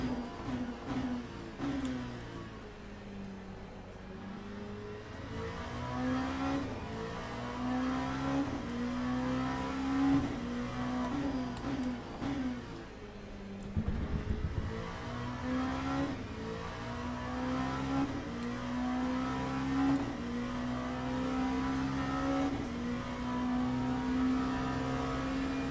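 LMP2 prototype race cars at Daytona in the Le Mans Ultimate racing game drone steadily, their engine notes rising and shifting through gears as traffic passes, with a continuous moderate roar and no talk.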